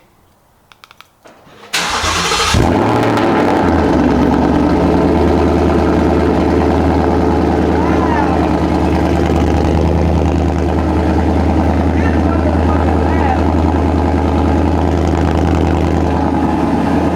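A 2020 Ford Mustang GT fitted with an MBRP exhaust cranks briefly and fires up, then settles into a loud, deep, steady idle rumble that continues close to the microphone.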